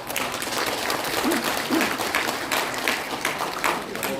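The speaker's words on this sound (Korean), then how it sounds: "우리 크게 박수로 한번" Crowd applause in the main auditorium of the National Assembly Library welcoming a lawmaker at a launch ceremony, a dense continuous clapping from a large gathering, fairly loud and steady.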